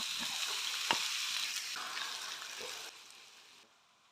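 Two medium onions sizzle in oil spiced with whole spices for a vindaloo, a bright continuous frying hiss with a couple of stirring clacks, fading gradually toward the end.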